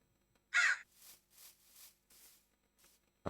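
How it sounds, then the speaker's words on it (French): Crow cawing in the Minecraft Prehistoric World mod, one loud harsh caw followed by several softer repeated caws, then a sudden thud at the end. "Un corbeau."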